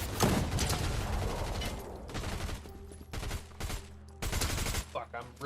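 Submachine gun bursts in a video game, several loud rapid-fire volleys with short gaps between them, close and punchy, with a voice talking in between.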